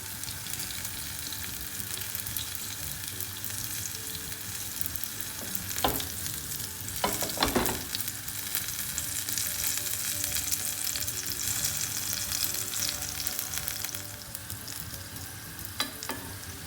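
Fruit-filled gyoza fry in a pan until golden, producing a continuous close sizzle with a few sharper crackling pops breaking through midway and near the end.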